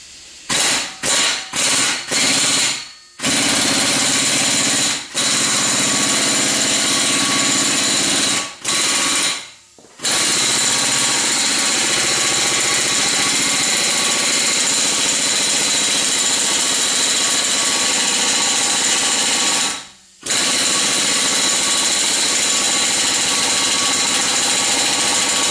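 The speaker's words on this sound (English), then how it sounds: "here goes the attempting to remove it with the impact wrench" Impact wrench hammering at a front hub bolt on a 2011 Cadillac CTS AWD: a few short bursts, then long loud sustained rattling runs broken by brief pauses, close up.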